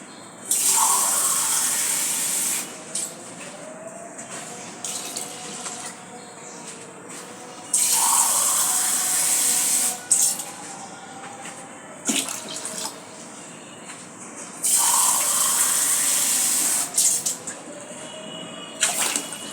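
Water pouring into a cooking pot, several loud gushing bursts separated by quieter pauses, close by with no talk.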